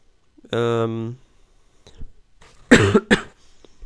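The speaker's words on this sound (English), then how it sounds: "my cough still hasn't quite worn off" A short voiced sound is followed by two sharp, harsh coughs close to the microphone, separated by quiet pauses.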